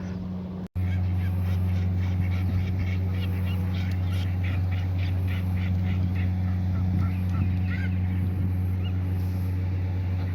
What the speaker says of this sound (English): The crow is attacking the ducks.